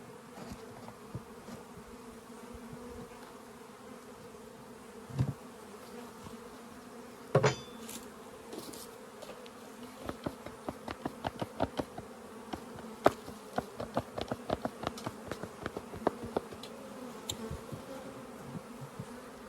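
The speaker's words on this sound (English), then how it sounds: "There's a lot of bees in here." Many honey bees buzz in a steady, dense drone from an opened hive during splitting and nuc-making work, with a few sharp knocks and a run of clicking, tapping handling sounds over the middle and later part.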